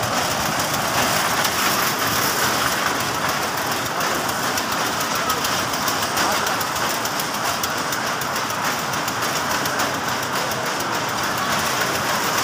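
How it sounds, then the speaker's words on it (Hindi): A toy train ride running at a fairground, giving a loud continuous rumbling, rattling wash of wheels and engine noise with steady crowd-like hiss, close and unbroken throughout. "ये ट्रेन जो है ये चला रहे हैं"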